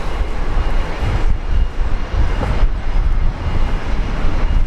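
A Qantas Boeing 737-400 airliner roars steadily at Brisbane Airport, a loud, broad, continuous engine rumble with no talking.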